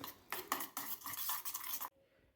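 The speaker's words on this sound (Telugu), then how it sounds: "ఈ మొత్తం ఎగ్ మిశ్రమాన్ని బాగా కలుపుకోవాలి." A bread omelette's egg mixture is beaten briskly in a bowl, a rapid close clatter of utensil strokes for under two seconds, then it stops abruptly.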